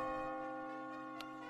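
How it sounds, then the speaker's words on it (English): A bell rings near the exit in the video game Catherine as a sustained, resonant metallic tone with layered overtones, steady and fairly faint, with no talk. "As you near the top, you will hear a bell ringing."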